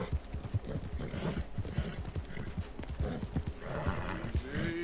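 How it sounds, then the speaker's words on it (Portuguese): A frightened horse in Red Dead Redemption 2 snorts and whinnies while its hooves clop and shuffle in a quick, uneven rhythm, with a louder neigh toward the end, heard up close with no talking. "o cavalo tá meio assustado"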